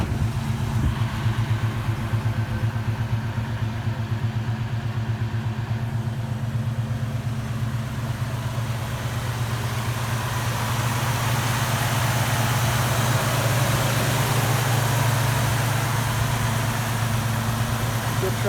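A 1972 Chevy C10 pickup with a 350 small-block V8, Rochester carburetor and electric choke, idles smoothly with a steady low rumble and even exhaust pulse, continuous and close throughout.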